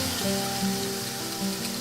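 Butter sizzles steadily in a frying pan, a close, continuous crackling hiss with no voices over it.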